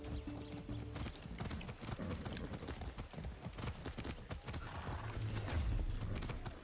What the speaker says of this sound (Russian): Ты на лошади едешь.